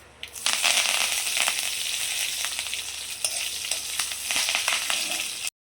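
Hot oil sizzles and crackles steadily with sharp popping spatters, close and loud, with no voices.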